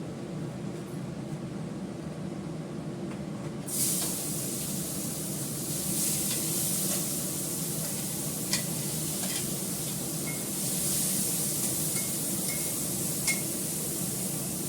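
Onion and garlic paste frying in a pan for a Bengali curd fish curry, a steady broadband sizzle that swells after a few seconds, with occasional stirring clicks, close and continuous with no talk.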